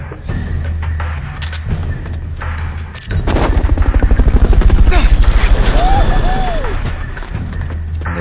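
Helicopter in the video game Metal Gear Solid: Peace Walker, a loud steady rotor chop with a pulsing beat, mixed with bursts of gunfire and crashes and some game voices over it.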